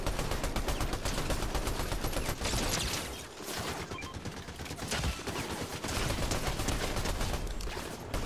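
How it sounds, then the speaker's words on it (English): Sustained video game gunfire, dense rapid automatic shots blending into a continuous loud barrage with a short lull midway before resuming at full intensity. "Come on, shooting at me"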